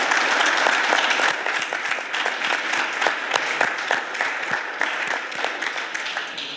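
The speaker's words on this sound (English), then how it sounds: "So please, applause for her" A hall audience at the closing of a national youth science contest gives sustained applause, many sharp claps blending into a loud, even patter that slowly thins toward the end.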